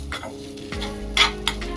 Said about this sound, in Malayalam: തേങ്ങ സിമ്മിൽ വെച്ച് വറുത്തെടുക്കണം കേട്ടോ.